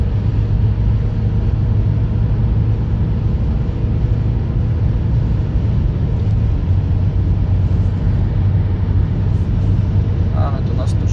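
Steady loud interior rumble of a car cruising at 160 km/h on a German road, a constant low drone of engine, tire and wind noise throughout, with someone talking over it.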